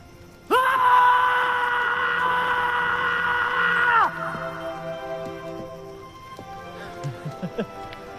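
A loud, sustained scream of about three and a half seconds from close by, followed by quieter voices and some short bursts, in a Hindi-dubbed film scene.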